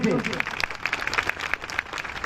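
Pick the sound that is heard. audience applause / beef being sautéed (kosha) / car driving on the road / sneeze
audience applause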